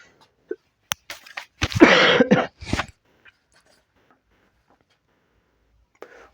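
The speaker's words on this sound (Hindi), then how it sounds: "थोड़ी सी खांसी आ रही है" A few sharp coughs in a quick cluster, close and fairly loud, with a brief pause before a faint trailing sound.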